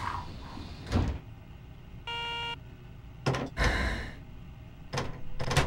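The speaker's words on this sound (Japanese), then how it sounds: "閉まるドアにご注意ください。" Doors of a Keikyu 600 series train in Train Simulator close to a steady chime tone, with several loud thunks and sliding slams before and after, heard alone without talk.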